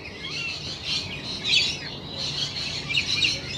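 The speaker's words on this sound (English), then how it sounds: "This bird is following us." A bird close by gives bursts of chirps and squawks in uneven clusters over a soft outdoor background, fairly loud and with no talking.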